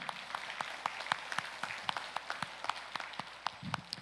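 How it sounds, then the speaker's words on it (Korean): A church congregation at a regional revival gathering claps in thanks, a quiet patter of individual distinct claps at an uneven rhythm, somewhat distant and sparse rather than a full roar. "우리 박수 한번 쳐드릴까요?"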